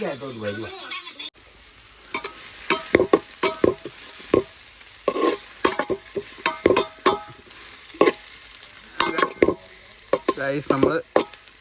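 Onions being sautéed in a pan with a steady sizzle underneath, broken by regular scraping strokes of a spatula stirring, close and fairly loud, with a faint voice at moments.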